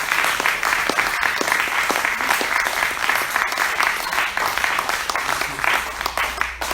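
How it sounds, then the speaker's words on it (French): Sustained applause from an audience at a French tribute event, steady and dense clapping filling the space for several seconds without letup. "je vous demanderai d'applaudir Bernard et"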